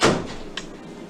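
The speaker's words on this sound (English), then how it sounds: "Let me close my office door." An office door is swung shut at home in one quick, close thud, with a brief softer knock of the latch about half a second later, then quiet room tone.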